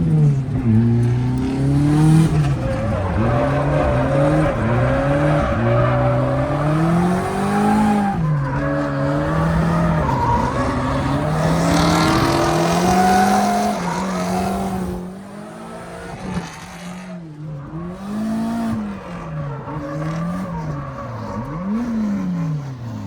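A BMW E36 drift car slides in tandem with a Mustang on track, its engine revving up and down in rapid swings, bouncing off the limiter, with tire squeal and loud close exhaust throughout, briefly dipping before picking back up.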